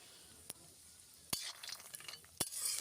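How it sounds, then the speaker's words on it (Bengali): Lentil dumplings (bori) fry in hot oil in a kadai while a metal spatula stirs them, giving a faint, low sizzle broken by a few sharp scrapes and clinks. "বড়ি নাড়াচাড়া করে লাল লাল করে ভেজে নেব"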